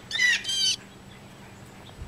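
Blue jays call outdoors with two harsh, back-to-back squawks lasting under a second, loud and fairly close, followed by quiet ambient background.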